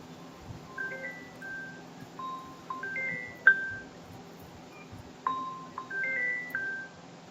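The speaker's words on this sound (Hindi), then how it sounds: "ये फोन किसके पीछे बज रहा है?" A phone's ringtone plays behind someone on an online call, a faint melodic run of bright electronic notes in two short phrases with a sharp click between them.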